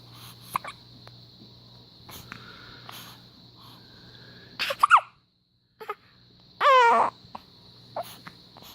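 A baby hiccups a few times in a quiet room, short sharp catches spaced seconds apart, close to the microphone, with a brief whimpering cry near the end over a low steady hum.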